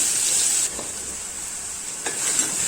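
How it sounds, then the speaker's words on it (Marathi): Finely chopped onion drops into hot oil in a home kitchen pan, giving a loud, steady bright sizzle that eases after a moment, with a couple of soft stirring scrapes near the end. "आता त्या तेलामध्ये बारीक चिरलेला कांदा टाकते"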